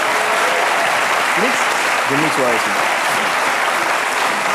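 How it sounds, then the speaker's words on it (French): Studio audience applause on a French television talk show set, a loud continuous wash of clapping with a voice talking briefly over it. "vous pouvez applaudir."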